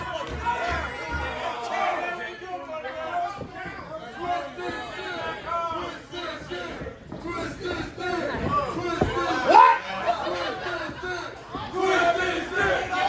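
A wrestling crowd at a match in Athens shouts and cheers continuously, loud overlapping yells and chants filling the venue, with a commentator's voice mixed in.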